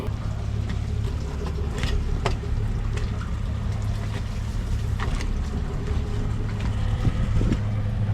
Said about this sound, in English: we have the engine up and running.